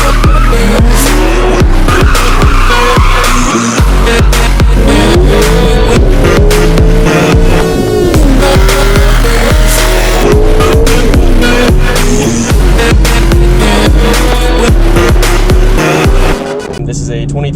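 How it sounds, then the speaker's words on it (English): A 2013 Chevrolet Camaro ZL1 with TSP 1 7/8 headers, Corsa catback exhaust and Rotofab cold air intake accelerates hard, its loud engine rising through repeated no-lift upshifts, each marked by a sharp crack, with tire squeal. "Today we're just going to be demonstrating how the ZL1 and the ZR1 have no lift shift from the factory."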